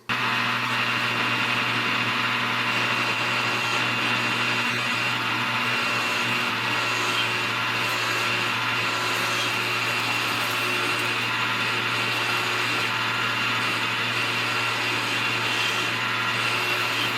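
A lathe turns down a weld on a rod with a ceramic button insert, a loud continuous whining cut with a steady hum, unbroken throughout.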